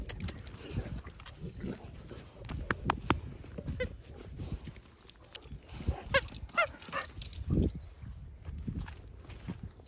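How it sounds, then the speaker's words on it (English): A dog at a dog boarding business moves about with scuffling footsteps and short bursts of noise, fairly quiet and uneven over the whole stretch. "Very sweet dog. Likes to play."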